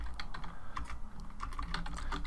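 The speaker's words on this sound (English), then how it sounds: "we were just typing here something like" Rapid, uneven clatter of keys on a computer keyboard as someone types a short line of text, close and steady over a faint background hiss, with no talking.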